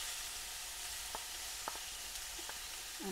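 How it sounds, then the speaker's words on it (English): Steak searing very lightly in a nice hot pan, a steady soft sizzle with faint crackles and a few small pops, quiet and continuous with no talk. "we're going to just cook the steak"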